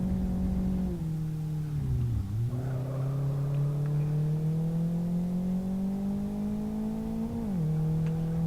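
Car engine in the Live for Speed racing game, a sustained tonal drone that dips sharply as the car crashes into another car, then climbs steadily again before dropping once more; no talking.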